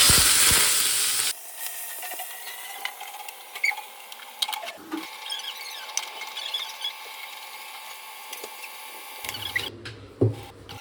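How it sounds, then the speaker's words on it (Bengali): Cumin, a small bay leaf and pumpkin hit hot oil in a kadai wok with a loud opening splash of sizzle, then settle into a steady close frying hiss with light crackles and stirring clatter. "কড়াইতে একটু সাদা জিরে দেবো, তো ছোট্ট তেজপাতা দিচ্ছি, দিয়ে কুমড়োটা দিয়ে দেবো"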